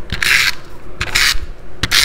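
A paper card base is burnished with three short, firm rubbing strokes. The scraping sound is separated by brief pauses, is close to the listener and carries no speech.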